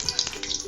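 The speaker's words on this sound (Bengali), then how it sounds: "এবার তেলটা গরম হচ্ছে।" White cooking oil for a rohu fish curry heats in a pan with a soft, close crackling sizzle and a few brief spits, with no talk over it.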